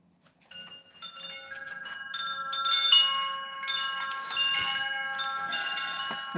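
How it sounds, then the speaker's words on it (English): Om wind chimes ring out to open a sound-healing session, several sustained metallic tones layering and overlapping as new strikes join in, close and moderately loud with long shimmering decays and no talking. "We've got some Om wind chimes starting our sound healing."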